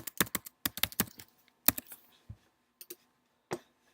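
Sharp, distinct keystrokes on a computer keyboard enter a sudo password at a Unix terminal, a quick run of clicks followed by a few scattered taps with gaps of silence, close and clear, no talking.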